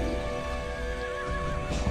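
A horse whinnies in the video game Torchlight 2, with a wavering pitch over a steady synthetic hum, with faint hoof clops toward the end.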